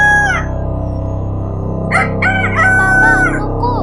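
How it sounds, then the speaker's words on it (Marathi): A hen in a coop lets out a drawn-out call, then after a short pause gives several short, close, loud squawks and clucks. "कोंबडीचा छोटासा आवाज करते"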